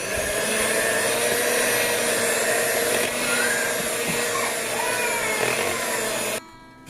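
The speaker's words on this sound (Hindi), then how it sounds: "अभी इसको भी अब हमने इसमें डालना है 5 एग योक और इसको हमने मिक्स करना" Electric hand mixer whirring steadily as egg yolks are beaten into chocolate sponge cake batter, a loud continuous motor drone that cuts off abruptly near the end.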